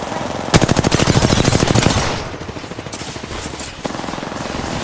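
Rapid automatic gunfire in a shooter video game, a loud close burst of evenly spaced shots lasting over a second, then quieter sputtering fire and a second steady stream of shots near the end.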